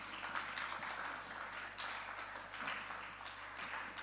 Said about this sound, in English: Keep on clapping, please.